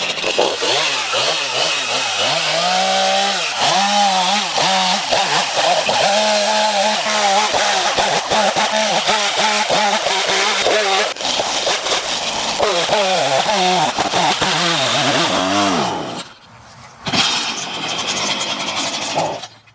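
A STIHL MS 251 C-BE chainsaw cuts wood, its engine roaring loud and close with repeated bogging and revving as the chain bites, then it drops briefly before revving again.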